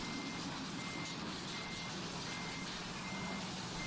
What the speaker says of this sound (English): Why are you going so fast in reverse? That's crazy. I'm losing a battle here with a truck.